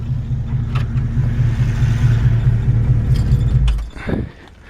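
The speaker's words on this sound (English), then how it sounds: "I'm gonna turn the car off so we can hear a little better for the video" A 1966 Ford Mustang convertible's engine idles with a steady rumble, then shuts off near the end, dropping to near silence, with faint keys jangling in the ignition.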